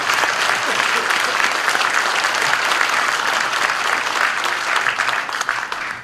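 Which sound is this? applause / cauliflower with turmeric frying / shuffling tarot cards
applause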